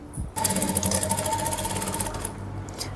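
A sewing machine stitching the neckline of a suit, its loud, close motor whirring and needle clattering rapidly and steadily for about two seconds before stopping.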